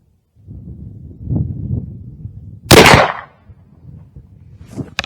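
A single sharp muzzleloader rifle shot cracks loudly nearby on an outdoor range and rings out, with low rustling and movement before and after.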